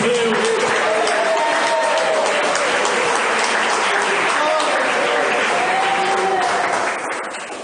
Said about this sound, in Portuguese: Palmas que louvem o nome do Senhor, nosso Deus.